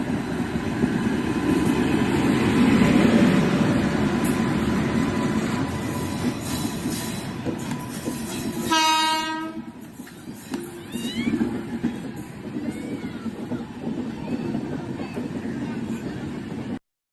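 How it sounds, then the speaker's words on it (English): A local commuter train in Bombay rumbles past loudly and steadily, then a sharp metallic wheel squeal cuts in and the noise drops to a softer rolling clatter with background bustle. "this is the local train in our Bombay"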